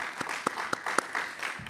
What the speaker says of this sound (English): So a round of applause for those all.